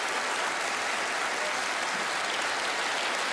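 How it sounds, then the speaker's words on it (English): Steady, dense audience applause fills a TV magic show studio, loud and continuous throughout with no voices over it. "Give Carlos a round of applause as he makes his way down"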